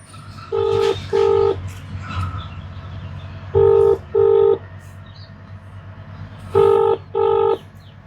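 An outgoing phone call rings on speakerphone, a double-burst ringing tone repeating three times at even intervals over a low steady hum.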